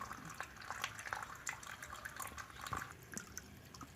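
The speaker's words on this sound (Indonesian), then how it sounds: "ini barusan saya tuangkan cacing sutranya ya" Live tubifex worms are poured into water for snakehead fish fry, making faint, close splashing and trickling with scattered small drips and plops.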